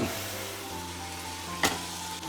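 Cinnamon, cloves, cardamom, mace, bay leaf and onion sizzle in hot oil in a pan, a steady close frying hiss with one brief stir clatter partway through, and no talking.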